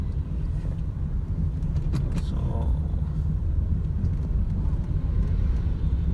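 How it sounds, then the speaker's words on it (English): A 15-year-old Honda City ZX GXi rolling in fourth gear without throttle, a steady low engine and road rumble from inside the cabin, with a brief spoken word near the start. "we will go in fourth gear without accelerating and check if the car still moves ahead"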